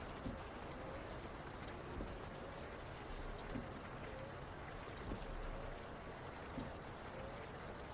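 Heavy rain in the truck-driving game ATS pours down steadily, a dense, constant roar of water with occasional louder splashes, and no one speaking.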